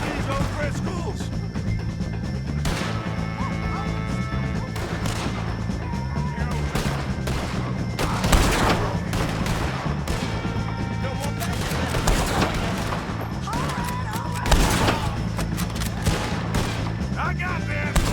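Gunfire in the video game Red Dead Redemption 2 during a fight with O'Driscolls, repeated sharp shots and crashes scattered irregularly over a continuous low din, with voices speaking in between.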